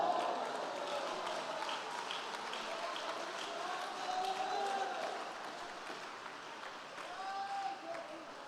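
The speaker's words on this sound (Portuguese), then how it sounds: "tem aplauso para o Senhor" A church congregation applauds during a Pentecostal-style sermon, producing a sustained wash of clapping with voices and shouts mixed in, moderately loud and steady throughout.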